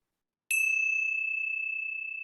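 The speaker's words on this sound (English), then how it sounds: "let's close our time together with the ringing of the bell" A single bell struck once during a meditation session rings out clearly after a brief silence, its pure high tone sustaining and slowly fading with a gentle wavering shimmer, heard alone with no voices.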